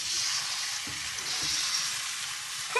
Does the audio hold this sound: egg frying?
yes